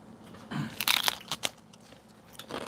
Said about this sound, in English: Is the crunching too loud?